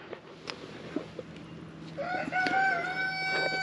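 Chickens cluck quietly in the background, followed by a rooster crowing loudly nearby over the soft farmyard ambience.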